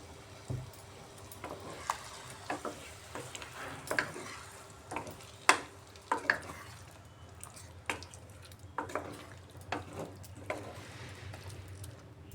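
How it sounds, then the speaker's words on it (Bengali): Water used to rinse a mixer jar goes into a pan of sizzling spiced paste for a vegetarian pointed gourd and paneer dish, giving a soft sizzle broken by irregular clinks and knocks of stirring, close and fairly quiet. "আর যে মিক্সিতে আমি এগুলা পেস্ট করেছি এই মিক্সি দেওয়া জলটাও এর মধ্যে দিয়ে দিচ্ছি"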